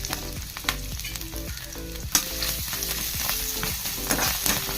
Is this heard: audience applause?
no